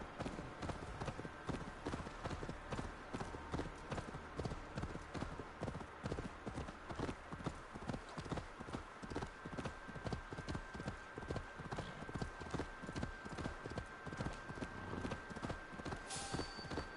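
Horse hooves clip-clop in a steady, rapid trotting rhythm from a ridden horse in a video game, close and continuous under faint game ambience, with no speech.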